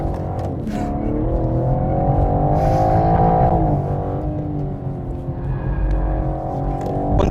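A BMW M4 Competition engine pulls hard on a race track, its loud, steady harmonic roar rising in pitch and briefly dipping at gear changes, continuous throughout with no talking.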